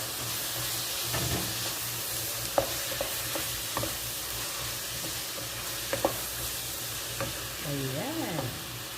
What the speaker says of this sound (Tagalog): Ayan, mix natin ang tomato.